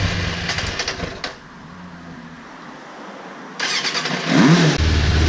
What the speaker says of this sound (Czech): musíme nastartovat motorku a pořádně to ohřát